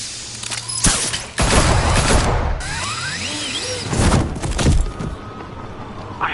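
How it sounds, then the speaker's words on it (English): Gunfire bursts in the Batman Telltale Series video game, loud clustered shots with thuds and mechanical clatter, mixed with game sound effects and music, no speech. "It's Batman! Shoot him!"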